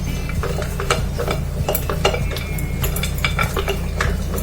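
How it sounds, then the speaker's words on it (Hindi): Poha tossed with spices in a metal pan, a spoon scraping and clinking steadily against the pan, close and loud with a low hum underneath and no talking. "इसे ऐसे हिलाना जिससे कि सारा मसाला जो है मिक्स हो जाएगा और आपके पोहे टूटेंगे भी नहीं।"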